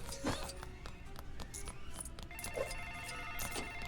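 A telephone rings in the LEGO Jurassic World video game, during its Jurassic Park section, with a steady electronic ring tone repeating over busy game music and effects.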